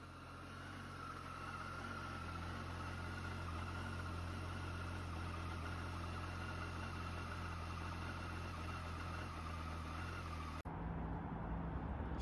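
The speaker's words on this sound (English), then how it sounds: "here's a reminder of what my motorbike looks like, the Triumph Street Triple RS, and also what it sounds like" A Triumph Street Triple RS motorbike sits idling nearby, a steady low engine hum and rumble holding constant with no talk, cutting off abruptly near the end.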